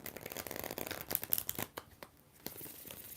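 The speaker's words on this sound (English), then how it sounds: "we get 4 shuffles for Ruby Samoza" Tarot deck being shuffled, a soft papery riffle and crinkle of cards, quiet and close, with bursts of handling noise that thin out toward the end.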